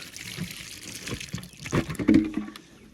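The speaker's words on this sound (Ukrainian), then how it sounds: "Виливаємо тут прям тут воду всю." Water poured out of a plastic chicken drinker in a backyard coop, a short splashing gush that swells near the end, loud and close.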